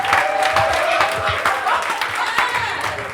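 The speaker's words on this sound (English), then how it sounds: "I need a round of applause better than that." Audience at a stand-up comedy tour show clapping and cheering in a dense, steady burst of applause, with shouts and voices mixed through the crowd noise.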